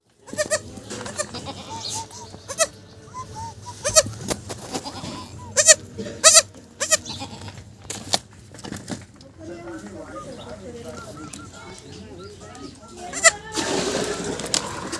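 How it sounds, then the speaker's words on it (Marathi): Goats bleat repeatedly amid a busy, noisy outdoor scene, with short sharp cries scattered over a rumbling background and some voices. "शेळ्या घेऊन आपण चाललेलो आहे"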